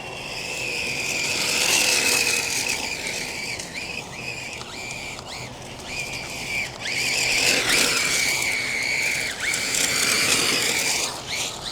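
An MJX 10303 RC rally car races and slides, its small electric motor whining high with rising and falling pitch, gear whir and ratcheting chatter, loud and close with no talk.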